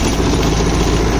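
A Mahindra 595 DI Turbo tractor in third low gear, both levers fully down, drives a rotavator at about 1000 rpm. Its diesel engine gives a loud, steady, close rumbling drone that never lets up, with no talk.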